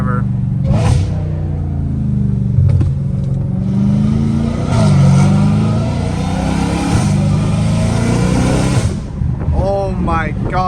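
Straight-piped Dodge Challenger Hellcat Redeye V8 roaring close up as it revs and accelerates hard, the exhaust note swelling and falling in loud surges, heard from inside the car.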